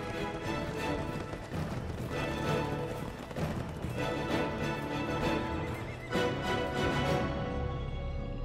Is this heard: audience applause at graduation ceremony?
no